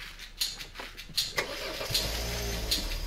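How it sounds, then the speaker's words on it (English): A car engine cranks with a few rhythmic starter clicks and whirrs, then catches and settles into a steady low idle, heard close in a short film with no speech. "Can you get the car started?"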